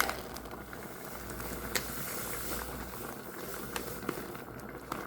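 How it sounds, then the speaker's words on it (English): A pot of fig jam bubbles at a steady, gentle boil, with a soft hiss and occasional small pops close by. "it's been boiling nicely"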